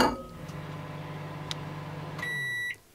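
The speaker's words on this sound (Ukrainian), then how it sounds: "Ставимо підігріватись мікрохвильовку на 30 секунд." A microwave oven runs for about 30 seconds heating a 100-gram mixture for fishing bait, with a steady low hum, then several bright electronic beeps near the end before the hum stops.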